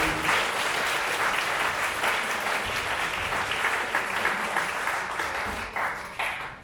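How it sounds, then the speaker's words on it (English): Audience applause at a Juneteenth program, a dense, steady wash of many hands clapping together, sustained and fairly loud throughout before easing slightly near the end. "Give them a round of applause"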